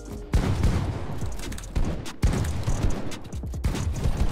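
Gunfire in a trio arena battle royale match, with dense rapid bursts of shots and booming impacts that keep going almost without a break, loud and close.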